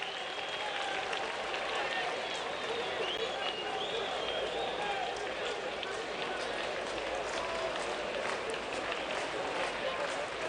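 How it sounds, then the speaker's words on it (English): Thin crowd noise from a sparse audience at a small ballpark during a 2008 Cardinals at Marlins baseball game, a steady murmuring wash of cheers and chatter with no single standout moment. "The sparse, and I mean sparse, crowd makes a little noise."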